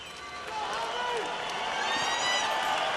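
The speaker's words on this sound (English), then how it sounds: "The crowd getting excited about this man, Sultan Ibragimov." Boxing arena crowd roaring and cheering for heavyweight Sultan Ibragimov before his fight with Evander Holyfield, a dense, sustained wall of noise with voices rising over it throughout.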